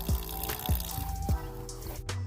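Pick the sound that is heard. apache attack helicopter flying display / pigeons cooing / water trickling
water trickling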